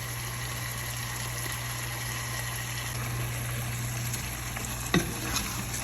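Beaten yogurt is stirred into a sizzling masala in a pan while koftay are being cooked, a steady loud frying hiss with soft stirring scrapes and one brief clank near the end.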